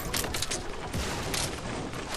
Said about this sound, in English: He shot me through a wall.